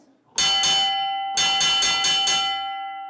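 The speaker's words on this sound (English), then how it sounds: "This is called the call bell." A loud mine hoist call bell rings in two groups, two strikes, a pause, then five quick strikes, the ringing sustaining and slowly decaying throughout.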